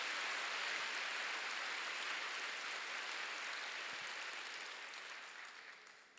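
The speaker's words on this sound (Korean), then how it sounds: "박수 세게 쳐보세요" A church congregation at a Sunday worship service claps hard, a thick, even wash of applause that holds steady and slowly fades toward the end.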